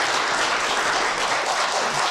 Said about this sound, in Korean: 축하의 박수를 전해주시기 바랍니다